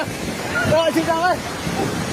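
Floodwater rushing down a swollen river in Nepal, a loud, steady broadband roar that fills the whole clip while a voice cries out over it.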